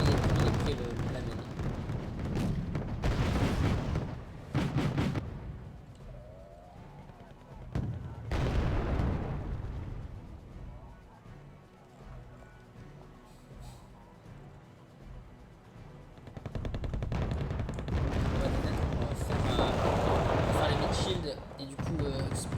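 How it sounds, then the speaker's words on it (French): Plamen rocket artillery firing in the strategy game Wargame: Red Dragon, with repeated loud rumbling launches and blasts over sustained battle noise, and someone talking throughout. "Il déporte également le Plamen qui tire dessus."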